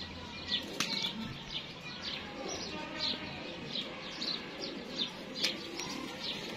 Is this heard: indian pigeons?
yes